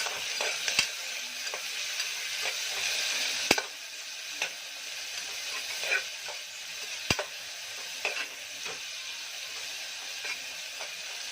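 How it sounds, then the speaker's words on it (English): Onion and other ingredients for a carrot drumstick curry sautéing in a pan, a soft continuous sizzle punctuated by distinct spatula clacks and scrapes at irregular intervals, moderately close and quiet, nobody talking. "Saute nicely. Let it fry light pink color."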